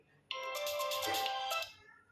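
A Tecno Spark 9T phone plays a bright electronic ringtone, a short melodic phrase, clear and close, then stops abruptly into quiet.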